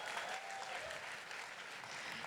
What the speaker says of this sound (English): Let's have some applause for that.